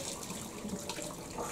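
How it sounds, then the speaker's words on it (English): Hot water poured out of a pot into a kitchen sink while making tuna salad, a steady close splashing rush lasting the whole moment with no talk. "you want to get the hot water out of there."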